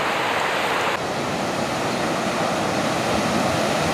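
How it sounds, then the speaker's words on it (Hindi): Floodwater released from open dam gates on the upper Jhelum canal roars in a loud, unbroken broadband rush, steady throughout with no voices. "पानी फिर आ गया, फिर दर खोलने लगे हैं"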